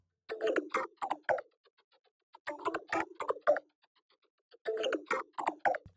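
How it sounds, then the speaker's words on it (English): A guitar part routed through a vocoder gives a robotic, voice-like tone, playing in three short choppy phrases separated by near-silent gaps. "So I took the signal from this guitar part and I routed it in through the vocoder."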